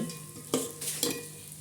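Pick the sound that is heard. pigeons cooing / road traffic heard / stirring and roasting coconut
stirring and roasting coconut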